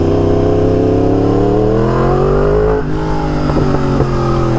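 A Yamaha R1M sport motorcycle engine revs loud and close, its steady high-pitched drone rising, then stuttering into uneven surges as the choppy throttle opens and closes.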